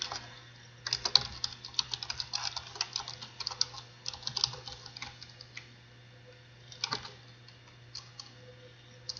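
Bursts of computer keyboard typing while code is written for a Roblox scripting lesson, clicking in uneven runs with brief pauses, close and fairly quiet over a low steady hum.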